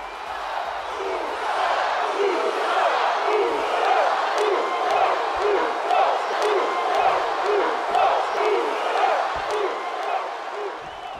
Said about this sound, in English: The entire WWE Universe on their feet for Jey Uso